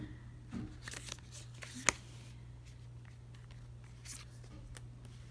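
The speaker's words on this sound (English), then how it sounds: "I'm just going to pull all the cards" Tarot cards are handled, shuffled and pulled from a deck in soft papery rustles and slides, close and quiet, with one sharp tap partway through over a low steady hum.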